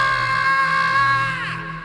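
A man lets out a loud, sustained scream of fear, a single held cry lasting nearly two seconds that tails off at the end, alone with no talk.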